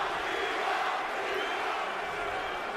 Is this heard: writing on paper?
no